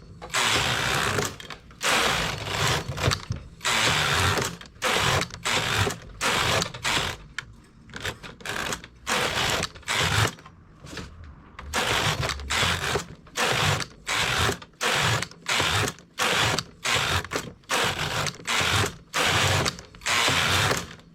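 A knitting machine carriage is pushed back and forth across the needle bed, knitting rows of a poncho in a shrinking stitch, giving a steady rhythm of sharp clattering passes separated by brief pauses, close and alone.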